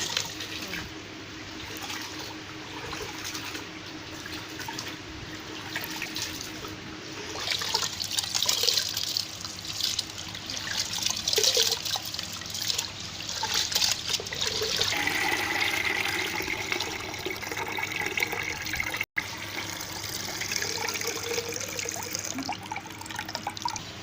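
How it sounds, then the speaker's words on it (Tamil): Ration rice being washed in plenty of water by hand, a steady run of pouring, sloshing and trickling water that goes on for a long stretch, close and fairly loud with no voices. "அரிசியை நிறைய தண்ணி ஊற்றி நல்லா கழுவணும்."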